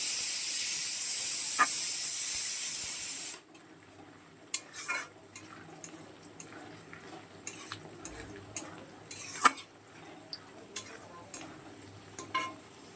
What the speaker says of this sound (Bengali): প্রেসার কুকারে মটনটা ভালো করে কষিয়ে দিয়ে দিয়েছি। আর এদিকে কড়াতে কাঁকড়া বসিয়ে দিয়েছি।